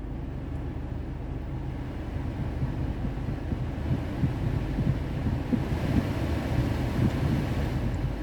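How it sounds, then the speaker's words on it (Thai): A Honda Civic's car air conditioning fan blows with a steady, low whooshing hum, fairly quiet and unchanging, with no voices. "เดี๋ยวเรามาเทสพัดลมกันนะคะ"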